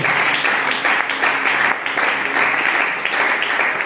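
A church congregation at a seminar applauds the Lord, with continuous, fairly loud clapping filling the room from start to finish and a few voices faintly underneath.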